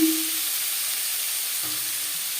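Onions and tomatoes sizzle in hot oil in a wok where fish was just fried, a steady close hiss of frying that holds constant throughout, with no talk.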